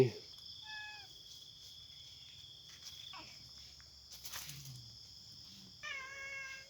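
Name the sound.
cats meowing at a Buddhist temple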